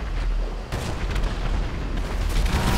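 Rapid, overlapping explosions from bombs in GTA 5 Online, a dense rumbling barrage of booms and bursts that runs loud and steady throughout, with no pauses between blasts.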